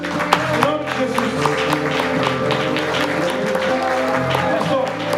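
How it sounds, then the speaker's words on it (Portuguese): A church congregation applauding to give glory to God, dense continuous clapping with some sharp claps, mixed with a steady low musical hum and faint voices in the background. "Nós queremos te aplaudir nesse momento, render ao Senhor toda a glória."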